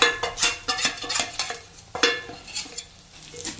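Masala for katachi amti fries in oil while spices are stirred in. A spoon scrapes in quick, uneven bursts over a light sizzle, close and fairly loud, and no one speaks.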